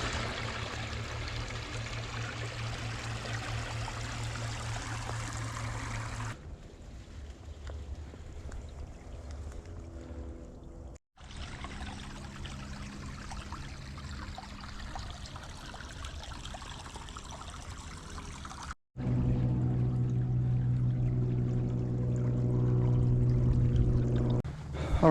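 Water flowing out through a ditch after a beaver dam is cleared, a steady rushing and trickling stream heard alone and close throughout, with abrupt shifts in loudness and tone as the sound cuts between positions.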